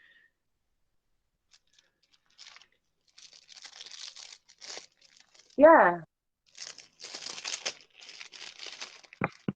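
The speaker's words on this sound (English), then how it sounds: "Sorry, it's a plastic bag." A plastic bag crinkles in bursts of dry rustling and crackling, close but soft and intermittent, with a brief spoken word in the middle.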